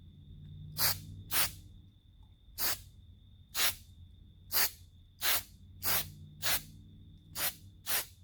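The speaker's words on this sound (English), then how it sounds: "blue stuff I've been spraying it with, Septone acrylic spray putty." Septone acrylic spray putty hisses from an aerosol can in about a dozen short, sharp bursts at an irregular rhythm, each one close and fairly quiet over a low background hum.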